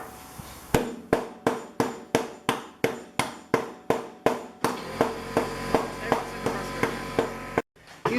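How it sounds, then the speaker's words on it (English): A thunder egg geode being crushed with about fourteen sharp, evenly spaced hammer-like blows that grow quicker and denser toward the end, ringing against a steady background hum, close and loud. "He's crushing up the thunder egg inside the geode"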